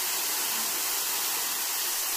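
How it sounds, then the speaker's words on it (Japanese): A waterfall on a trip in Tokushima, Japan, gives a steady, loud broadband rush of falling water, unbroken and without voices. "これ滝やから"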